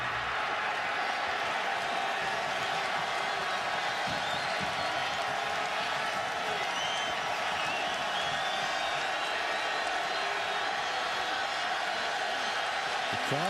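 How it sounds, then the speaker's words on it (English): A packed college football stadium crowd at a Pittsburgh versus Iowa game roars in a steady, dense wash of cheering noise, distant and continuous throughout. "The crowd coming to life here."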